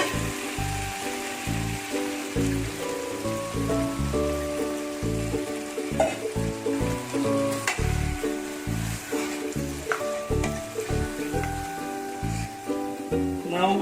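Tomato gravy goes into a pan of butter chicken cooking in oil, setting off a steady, crackling sizzle that pulses and shifts like stirring, close and loud throughout with no talking.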